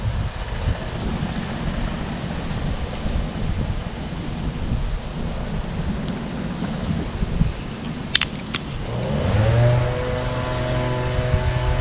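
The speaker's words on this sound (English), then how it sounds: "looks like the wind's going to help us out a whole lot" Wind blows outdoors during a one-stick fire challenge, a steady, loud, rumbling rush of gusts that buffets close by for the whole stretch.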